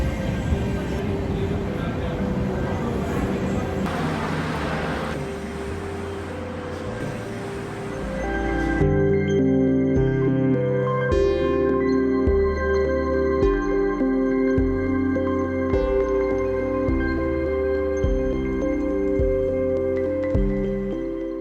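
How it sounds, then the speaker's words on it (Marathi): A late superfast passenger train pulling into an Indian railway station, a rumbling roar of wheels and carriages rolling past, then a steady rhythmic clatter of wheels over rail joints, loud and close. "आपली ट्रेन आली"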